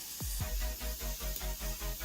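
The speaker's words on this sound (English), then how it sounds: "Got our spray nozzle on mist, and we're just going to do a good mist over the top" A spray nozzle set to mist sprays water over a seedling tray, making a continuous hiss with a rhythmic pulsing, close and steady, with no talking.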